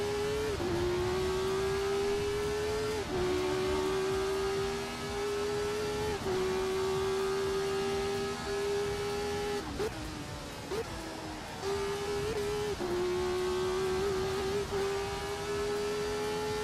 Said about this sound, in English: Well, I have to be able to hear my own car.